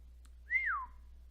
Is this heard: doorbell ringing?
no